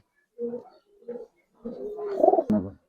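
A pair of Giribaz pigeons cooing nearby, two short soft coos followed by a longer rolling coo, alone without talk.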